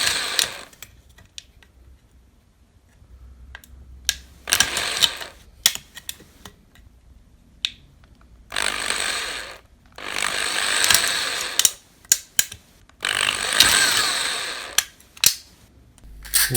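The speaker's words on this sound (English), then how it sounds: "go down to a very low setting and go and drill those all the way around the top of your stove" Several short bursts of an electric drill on a low setting whirring into a soda can, separated by pauses, with a few sharp clicks and taps between them; fairly close and moderately loud.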